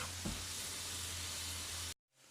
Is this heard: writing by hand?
no